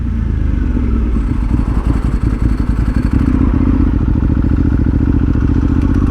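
A motorcycle rides at close range with a steady, throaty engine drone and some clattering bumps partway through as the front lifts in a small wheelie, then the engine note evens out again.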